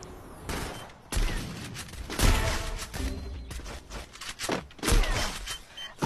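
Rapid game gunfire bursts and heavy thudding explosions from a bomb in the mobile shooter Free Fire, loud and repeated in irregular volleys with no speech.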